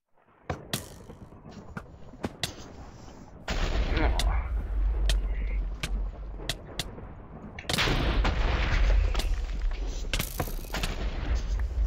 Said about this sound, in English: Too many explosions around.